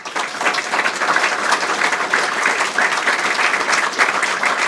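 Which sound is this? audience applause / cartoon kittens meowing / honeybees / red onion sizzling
audience applause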